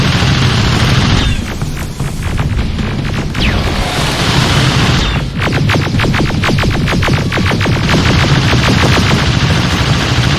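Rapid automatic gunfire from the shooter game Terminator Resistance, loud and close, with long sustained bursts of evenly spaced shots broken by brief pauses and a heavy low rumble under the firing.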